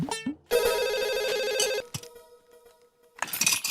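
A telephone rings in a home during an Indian TV comedy scene, a sustained electronic ringtone burst lasting over a second, then a quieter tonal tail and a brighter second burst starting, with no voices.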